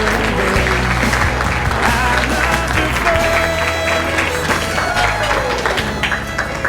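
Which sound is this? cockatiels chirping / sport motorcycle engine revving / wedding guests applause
wedding guests applause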